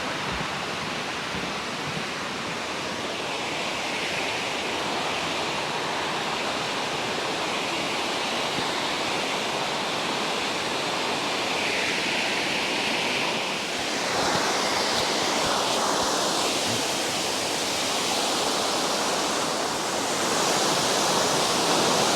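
Ricketts Falls at Ricketts Glen State Park roars as a loud, constant wash of falling water, dense and unbroken throughout, heard from across the stream on the opposite side.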